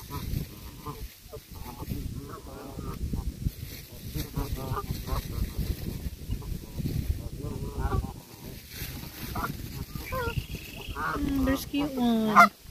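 Ducks honking and quacking outdoors near water during a fishing outing, with repeated calls over a busy background and people talking throughout.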